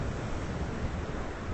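Ocean waves surge against the end of a jetty, a short, soft, steady wash of surf mixed with wind rushing across the microphone.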